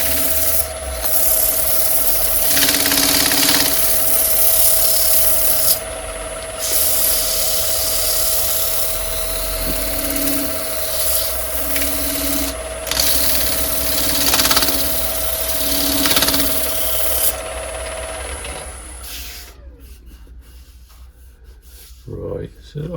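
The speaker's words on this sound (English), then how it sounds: "So we'll get a bit of sandpaper on that." Sandpaper rubbed by hand over wet, freshly turned natural-edge wood, steady rasping strokes with short pauses, fairly close and loud, ending in quieter faint scrapes.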